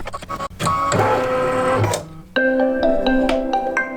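A home embroidery machine working an advent calendar project whirs and rattles loudly at close range, then stops and gives a series of short electronic beeps, with no voices.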